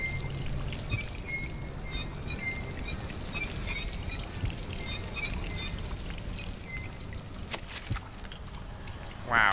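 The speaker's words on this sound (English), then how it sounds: "Yes, a faucet." A faucet runs in the video game Dishonored, a steady pouring stream of water, fairly close and continuous, with a brief louder burst at the very end.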